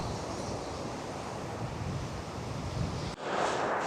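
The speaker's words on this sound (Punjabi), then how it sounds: "ਤੇ ਦਸਮਾਨੀਆਂ ਦਾ ਸਮੁੰਦਰ" Sea waves on the Tasmanian coast in Australia, a continuous broad roar of surf mixed with wind buffeting the microphone, loud and steady with a brief dip near the end.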